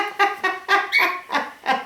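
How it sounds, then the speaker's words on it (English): A pet cockatiel gives a quick series of about seven bright, harmonic chirps, close and fairly loud, in an irregular rhythm with no talk. "He's a cockatiel."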